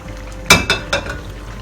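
Fresh spinach drops into a pot of chicken for palak gosht, giving three quick soft splashy rustles, one after another, then fading to quiet background.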